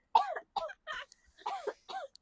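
Someone clears their throat and hacks up mucus in a series of about five rough, close coughs with short pauses between, each harsh and raspy, with no speech.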